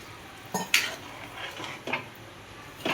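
A lid is set on a pot of peas cooking for matar paneer. A few light metallic clinks and knocks stand out over a soft simmer.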